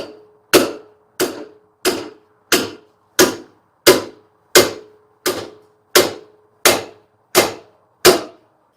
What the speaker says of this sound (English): take a pickle fork and bust this sucker free right here